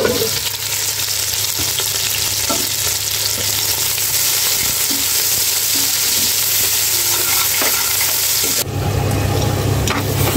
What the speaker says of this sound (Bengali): সব ধরনের মশলা নিয়ে কষিয়ে নিচ্ছি এখন